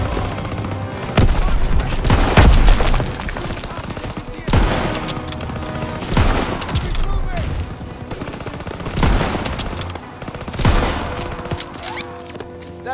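Heavy gunfire rattles through a Call of Duty WW2 battle during Operation Cobra, with repeated loud machine-gun bursts and rifle shots in waves, a few shouted voices mixed in.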